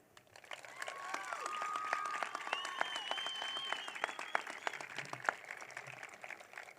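Sustained applause from a high school graduation crowd, steady clapping building up and carrying on throughout, with a few sharper claps standing out near the end.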